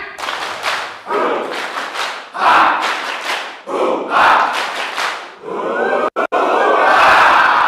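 A group at a training camp performs a spirit clap chant, bursts of rhythmic unison clapping alternating with loud collective shouts, ending in a sustained cheer-like roar from the crowd.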